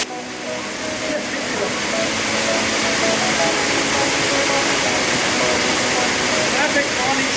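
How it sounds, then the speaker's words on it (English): The Minca waterfall in Colombia roars as a loud, continuous broadband rush of falling water, steady from start to finish, with voices talking faintly beneath it. "first stop here is the Minca waterfall"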